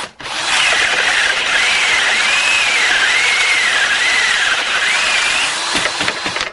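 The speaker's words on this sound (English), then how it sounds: "you just drill the holes for that 35 millimeter hinge" A power drill whines steadily as it bores 35 mm hinge holes in wood, its pitch dipping and rising several times as it bites, loud and close, then stops.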